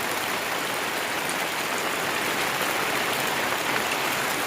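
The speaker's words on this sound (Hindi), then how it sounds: "देखिए आज सुबह से ही बारिश लगी हुई है, एक नंबर में है।" Steady morning rain falling in a village, an even dense hiss of drops on surfaces with no talk.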